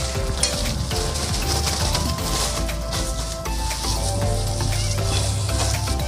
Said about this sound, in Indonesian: Kita aduk saja semuanya.